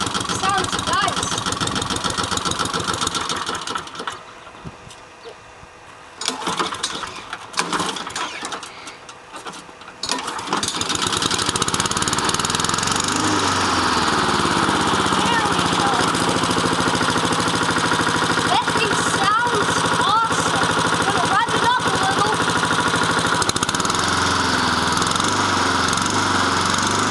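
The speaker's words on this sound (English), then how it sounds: "this is going to be a warm start of our Honda lawnmower here" A Honda lawn mower on a warm start at low throttle, with no choke: a few seconds of quieter handling noise, then the engine catches and settles into a loud, steady running drone close by that continues to the end.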